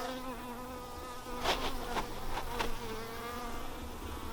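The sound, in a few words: bees flying around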